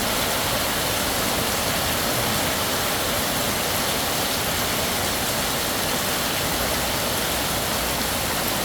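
A dense, constant downpour drums over a garden-house resort in Tha Muang, Kanchanaburi, loud and unbroken, a full hiss of rain with nothing else standing out.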